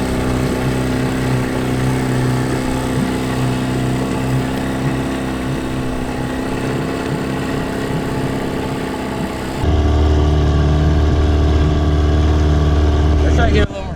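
An outboard motor drives an amphibious go-kart on water, a loud continuous engine drone that drops in pitch and grows heavier partway through, with voices faintly present.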